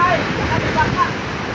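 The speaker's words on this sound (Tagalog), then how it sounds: "tingnan mo naman mga kanara yung hampas ng alon, oh, pagka laki-laki ang alon." Big waves crash on the shore during a typhoon in a loud, continuous roar of surf, with wind buffeting the microphone throughout.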